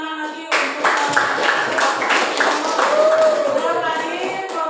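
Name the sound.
class clapping hands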